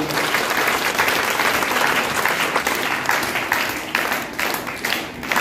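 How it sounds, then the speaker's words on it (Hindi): At a village Gandhi Jayanti quiz contest, a crowd bursts into loud, dense applause for a correct answer, continuous clapping that thins and swells in waves over several seconds. "पहले से ही ताली बजा रहे हैं, जोरदार तालियां, सही उत्तर।"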